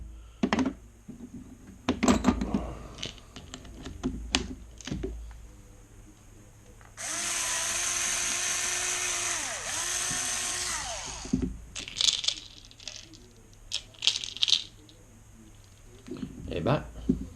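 A power drill with a bit bores into a Dexter Jerk fishing lure in one loud, steady whine of about four seconds with a brief dip midway, close by, with people talking before and after.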